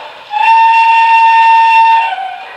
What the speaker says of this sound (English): Don't really care for the Banshee whistle.